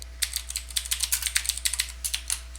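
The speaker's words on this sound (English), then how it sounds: "Now I can start typing some stuff." Quick, crisp key presses on a computer keyboard tap out in an uneven rhythm, about two dozen clicks in under three seconds, close and clear over a faint steady hum.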